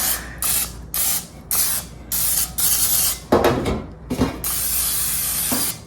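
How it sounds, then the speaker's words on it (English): Short bursts of cooking spray hissing close by onto a baking pan, several quick blasts followed by a longer continuous spray, then a sputtering finish. "you know how to spray a pan"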